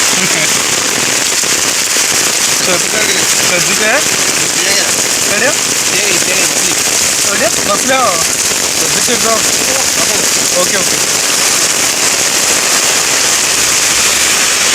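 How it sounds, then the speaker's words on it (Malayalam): Heavy rain pours down steadily and loudly, a dense continuous hiss with crackling patter throughout. "കണ്ടിന്യൂസ്ലി മഴ കേട്ടോ"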